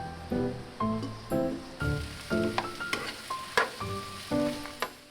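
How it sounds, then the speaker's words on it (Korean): Old cucumber being stir-fried in perilla oil, loud crackling sizzle broken into rhythmic bursts as it is stirred and tossed in the pan, close up with no talking. "들기름으로 볶는 노각볶음은 익을 때쯤 넣는 들깨가루가 신의 한 수"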